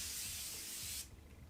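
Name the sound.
setting spray being sprayed on face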